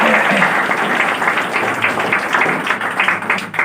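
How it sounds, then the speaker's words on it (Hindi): An audience at an RCM business meeting claps together in a dense, loud burst of applause that fills the whole moment without pause. "एक बार तालियां बजा दीजिए।"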